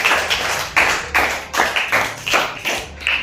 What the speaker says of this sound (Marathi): एकदा अनयासाठी जोरदार टाळ्या झाल्या पाहिजे